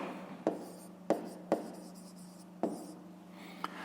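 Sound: writing by hand

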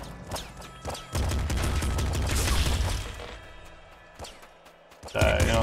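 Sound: machine gun firing in the video game Nuclear Throne

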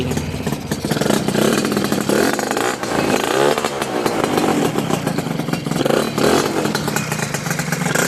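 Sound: Honda Nova RS Super motorcycle engine starting and running

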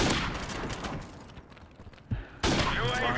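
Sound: gunfire in a video game

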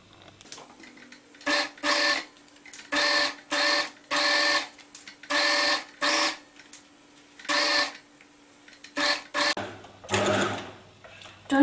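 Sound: sewing machine sewing the final line of a flat seam

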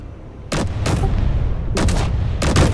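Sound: turret firing in the video game Space Engineers

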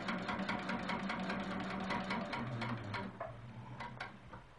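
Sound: quilting sewing machine stitching scallops

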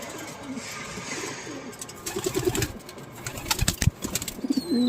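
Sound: pigeons cooing

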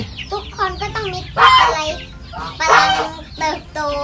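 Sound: baby chicks chirping

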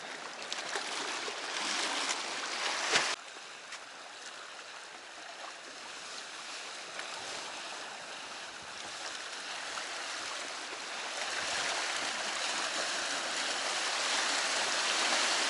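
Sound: Sea waves at shore while fishing

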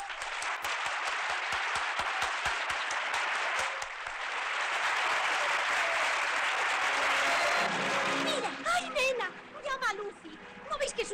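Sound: audience applause

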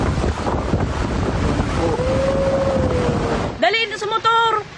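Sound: storm waves surging in Legazpi, Albay

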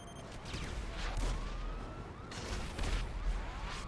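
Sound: gunshots from a video game city fight

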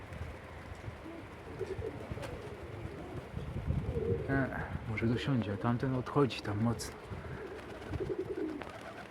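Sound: young pigeons taking off and flying

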